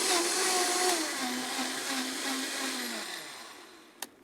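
A Vitamix blender runs on smoked blackberry coulis, a loud steady whir whose pitch dips and wavers as the motor works through the fruit, then winds down and ends with a sharp click.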